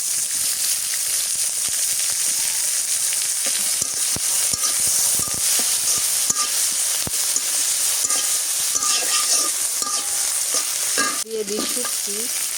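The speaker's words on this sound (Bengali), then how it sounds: "কাঁচামরিচ আর পেঁয়াজ দিয়ে দিলাম, এইটা তেলের মধ্যে ভাজে নিয়ে আগে" Green chillies and onion fry in oil in a wok, giving a loud, continuous crackling sizzle over a long stretch, with frequent scraping stirs and a brief clatter near the end; no one speaks.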